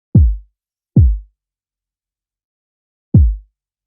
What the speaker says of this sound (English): We have a very, very fat kick here.